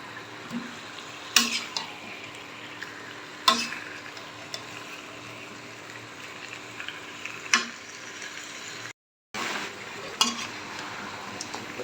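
Spicy goat meat being sautéed in a pan until the juices dry down, quiet low sizzling under a few sharp spatula knocks against the pan, with a brief dropout near the end.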